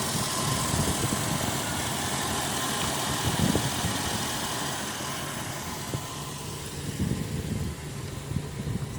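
A 1984 Oldsmobile Delta 88 Royale Brougham engine running steadily, a low smooth idle hum with faint mechanical whir, close and continuous with no speech.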